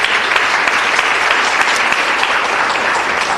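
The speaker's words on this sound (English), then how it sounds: "Let's give them a round of applause." Loud, dense applause from the audience at a city council meeting, a continuous close wash of many hands clapping without any talking.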